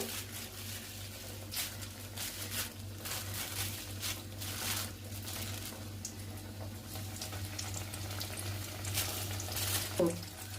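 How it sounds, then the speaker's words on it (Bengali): Onion fritters frying in a wok give off a faint, continuous sizzle and bubbling over a low steady hum, with a soft clink near the end. "কড়াইয়ে দিয়েছি যে, এরপর কিন্তু একটু কড়া করে ভেজে নিতে হবে"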